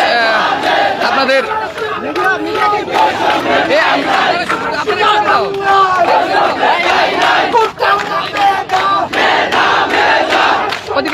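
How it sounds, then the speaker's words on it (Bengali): Students massed at a road blockade on the Sylhet–Sunamganj road in front of Shahjalal University, chanting slogans loudly and continuously as a dense crowd with a few voices speaking over the din. "স্লোগানে মুখরিত এই মুহূর্তে"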